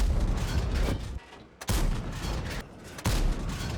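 Tank cannon shells fired in World of Tanks, each a loud, booming blast with a long rumbling tail. Three shots are evenly spaced about a second and a half apart.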